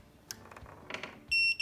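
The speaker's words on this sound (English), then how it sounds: "until you hear a beep" A Defiant Castle electronic keypad deadbolt lock gives one sharp, loud, sustained electronic beep near the end, after faint clicks and handling noises.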